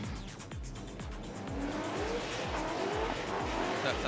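Formula DRIFT Pro cars in a Top 16 battle, racing side by side in St. Louis: loud, continuous engine roar with repeated rhythmic revving pulses and rising tire squeal and skidding, close and dense throughout.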